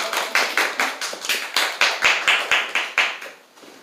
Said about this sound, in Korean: 자, 우리 박수 한번 주실까요?